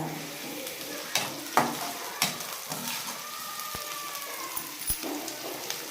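Onions and green chillies sizzle steadily in a hot pan for a chicken fry biryani, with occasional sharp clinks and scrapes of a stirring spoon.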